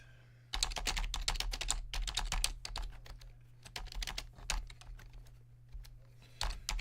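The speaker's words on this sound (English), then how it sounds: "so when I type this command" Rapid keystrokes on a computer keyboard as a command is typed into a terminal, a steady close-up clatter with brief pauses between bursts, no talking.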